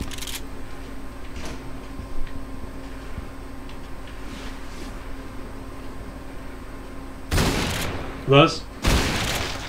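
Gunfire in the first-person shooter Call of DooM, in the Bio Labs level, arrives as two loud, close booming shots near the end among fainter pops, over quiet background hum and a brief spoken word.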